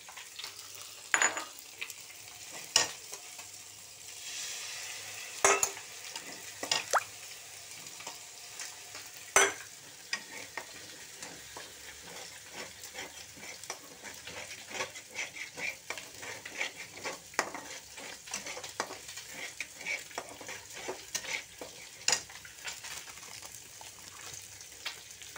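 Onion and ginger-garlic paste fry with chili powder and turmeric for a fish fry, a soft sizzle under repeated sharp clinks and scrapes of a spoon stirring in the pan.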